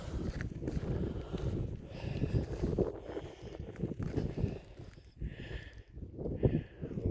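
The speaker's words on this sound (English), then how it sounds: "I think it's too windy for the drone." Wind gusts across the Sand Canyon Pueblo ruins, buffeting the microphone in uneven rumbling surges that rise and fall, with no voices.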